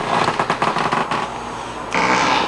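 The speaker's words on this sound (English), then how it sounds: "It's the chair making weird noises." An office chair creaks and groans in a run of short, rough, crackling bursts, then one longer scraping creak, close and fairly loud with no talking.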